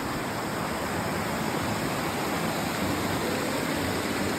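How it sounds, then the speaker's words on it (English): Stream water rushing steadily over rocks at a water-collection spot on the Superior Hiking Trail, a continuous broadband hiss, close and unbroken, with no voices. "This wins the award for most beautiful place to"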